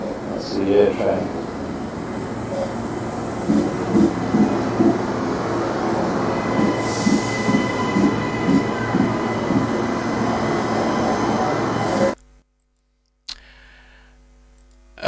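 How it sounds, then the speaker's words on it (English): An airport air train in South Africa rolls past with a steady rumble and clattering wheels, loud and close for several seconds before the sound cuts off abruptly, with faint voices underneath. "There comes the air train."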